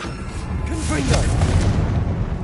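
A Confringo spell blast in the video game Hogwarts Legacy gives a deep boom with crackling, fiery bursts layered over a steady rumbling backdrop.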